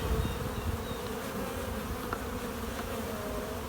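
Honey bees buzzing inside a hive heavy with honey frames, a dense, steady droning hum that stays close and continuous throughout.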